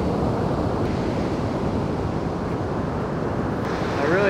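Ocean surf breaking steadily on a North Shore beach, a continuous loud wash of waves with wind buffeting the microphone throughout.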